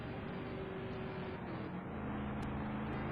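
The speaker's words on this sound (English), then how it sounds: "Gotta love the sound, gotta love the engine though of that Corvette." A C6 Corvette GT1 race car engine during a ten-hour endurance race at Fuji drones steadily and loudly with a low harmonic rumble, holding a continuous roar for about three seconds with no talk over it.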